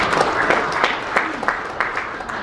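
Scattered applause from an audience at a Korean community council gathering in Atlanta, with a handful of distinct, crisp claps spaced out over a low murmur of background voices.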